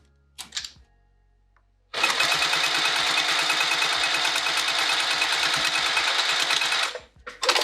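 A sewing machine with a zipper foot runs in one steady, loud burst of about five seconds while stitching a fabric pouch. A few brief handling clicks come before it, and a pause of near silence separates them.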